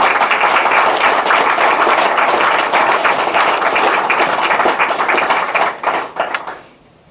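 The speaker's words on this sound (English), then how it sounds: "everybody here owes Jack Riley a hand of applause" A large audience at a student center dedication applauds in honor of Jack Riley: thick, continuous clapping for several seconds that breaks into scattered last claps and fades to near silence.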